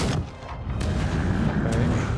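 Troll catapults fire in Black Desert Online, a dense, loud barrage of deep booms and rumbling impacts that keep going with no break, heavy low-end battle noise filling the whole short stretch.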